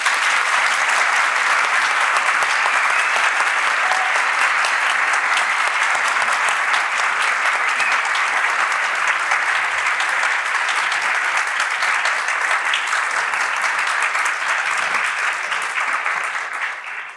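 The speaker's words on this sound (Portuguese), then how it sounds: "Vou pedir uma salva de palmas." A large audience at the Z Summit 2026 conference breaks into dense, sustained applause, loud and steady for the whole stretch before tapering slightly at the very end, with no voices rising above it.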